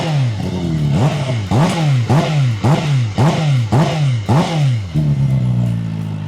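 An SRK 421 four-cylinder naked motorcycle with ride-by-wire throttle revs hard and close, its engine climbing and dropping in about eight quick, regular blips, then settles to a steady idle, with no talking over it.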